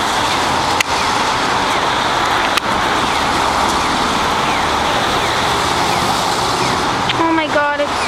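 Heavy rain falling at a bus stop on a busy street, a loud dense steady wash mixed with passing car traffic, close and continuous, with people talking underneath.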